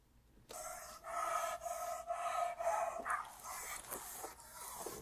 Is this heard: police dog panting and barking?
yes